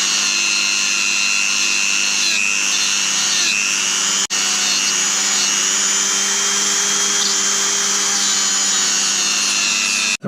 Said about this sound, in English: I'm going to use this little chap here, which is a stainless steel wire brush fitted to my Dremel